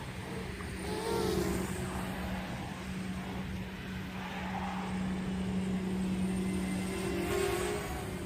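Steady high-pitched whine of a Blade 200QX quadcopter on an MR200 chassis with stock props during hard speed runs and turns, a continuous buzzing drone that swells and fades slightly as it flies, with no talk.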